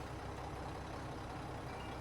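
Steady low engine rumble of a heavy truck rolling along in the off-road driving game SnowRunner, set in Alaska, a continuous drone with no talk.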